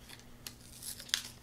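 Paper excess trimmed during card-making with a Cuttlebug embossing setup: a few soft, dry snips and crinkles, close and quiet, with one sharper cut near the end.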